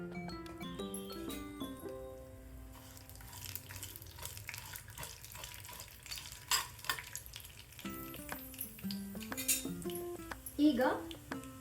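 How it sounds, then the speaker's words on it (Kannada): Mustard seeds hitting hot oil in a pan for a tempering while making chutney powder, a continuous crackling sizzle with scattered pops and stirring clinks, with a voice speaking throughout. "ಸಾಸಿವೆ ಹಾಕೋತಾ ಇದ್ದೀನಿ"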